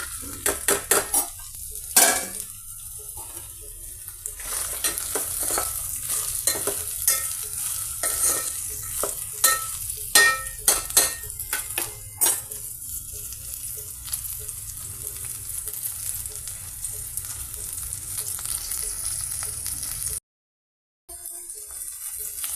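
Cut okra pieces fry and sizzle in a pan for a tomato curry while a utensil stirs and scrapes against the metal in repeated clattering strokes, close and steady with a brief silent gap near the end, no voices.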